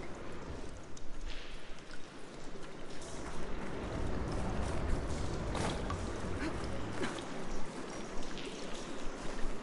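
Running water rushing steadily inside a room in the video game Horizon Forbidden West, a continuous soft splashing flow heard at moderate distance with a few brief louder spatters.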